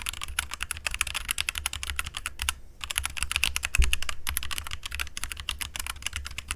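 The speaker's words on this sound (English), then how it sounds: "I'm just like hitting the keys so you can hear the clicky sounds of it" Clicky gaming computer keyboard keys pressed in quick, uneven bursts right beside the microphone, with a short pause midway and one thump.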